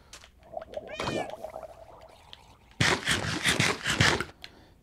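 A cat meows in a Minecraft game, with a short rising meow near the start followed by a louder, drawn-out caterwauling yowl, close and clear, no talking.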